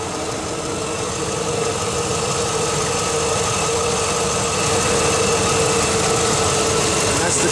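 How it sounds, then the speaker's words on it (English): A Ford F150 truck engine idles on hydrogen-oxygen gas from water, holding a steady, even rumble with a constant low hum, close and unbroken throughout. "the vehicle is running on pure hydrogen"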